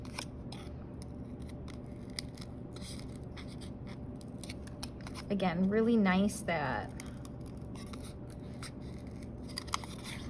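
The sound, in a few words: scissors cutting foam sheet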